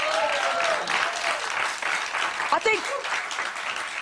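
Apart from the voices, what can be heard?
studio audience applauding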